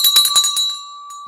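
The stock market closing bell rings in quick, loud, close strikes. A steady high tone sustains and fades after the strikes stop, and a brief faint strike follows near the end.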